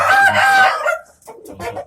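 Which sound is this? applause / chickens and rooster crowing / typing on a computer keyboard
chickens and rooster crowing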